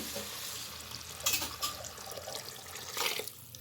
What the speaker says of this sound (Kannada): 1 ಲೋಟಕ್ಕೆ 2 ಲೋಟ ನೀರು ಆ್ಯಡ್ ಮಾಡ್ತಿದ್ದೀನಿ.